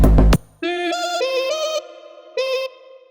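A vocal chop sample plays in Ableton's Sampler as a few sustained bright pitched notes after a brief loud burst. Each note starts abruptly and holds, with a short gap before a final repeat.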